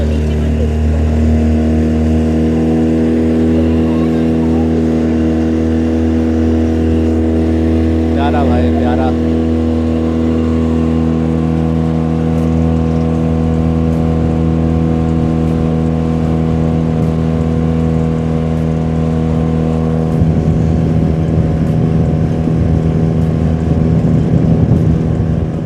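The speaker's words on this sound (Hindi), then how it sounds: "हमारे साथ ये बोट वाला रेस कर रहा था" A motorboat speeds along the Narmada river at Omkareshwar, its engine a loud, steady, close droning roar that holds for the whole stretch and swells slightly toward the end.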